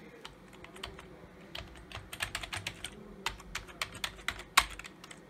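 Keys clack on a cut-down tenkeyless computer keyboard, a run of quick irregular taps close to the listener, growing denser and louder toward the end with one sharp peak, over a low room hum.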